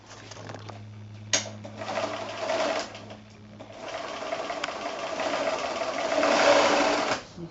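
A sewing machine runs steadily, stitching a second line near the folded top edge of a fabric gift bag, loud and close with a few brief pauses and clicks.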